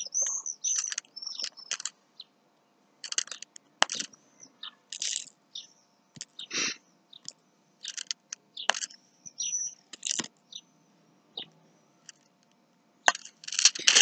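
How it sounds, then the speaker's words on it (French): Birds chirp and tweet outdoors in quick, bright bursts and short trills, scattered across the stretch with brief gaps of quiet between calls, fairly close and clear, with no voices. "on arrive à entendre les oiseaux"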